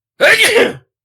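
A single sharp sneeze, loud and close, bursting out and fading within a second, then silence.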